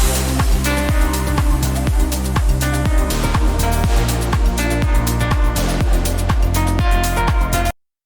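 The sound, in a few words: distorted synth pluck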